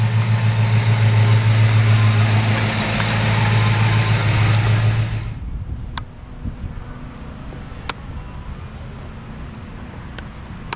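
A 1970 Oldsmobile Cutlass Supreme Convertible engine runs with a loud, deep steady drone close by, then shuts off or drops away to a faint quiet background with a few sharp clicks.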